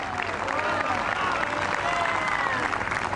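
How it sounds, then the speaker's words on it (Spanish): A crowd at an outdoor religious event in a park applauds, continuous dense clapping mixed with crowd noise and what sounds like music, steady and fairly loud. "Le damos un aplauso al Cristo que vive."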